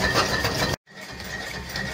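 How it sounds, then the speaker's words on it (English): A homemade Stirling engine generator fuelled by a wood fire runs with a continuous broadband mechanical whir. It cuts out abruptly for a split second, then resumes slightly quieter. "we'll see how long the wood lasts for until the engine stops"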